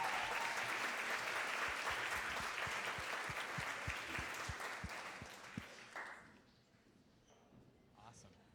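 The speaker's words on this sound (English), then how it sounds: "Give Jose a round of applause." A group at a meditation retreat applauds for a man named Jose, a steady wash of clapping with a few louder nearby claps that fades out after about six seconds, followed by quiet and a brief voice.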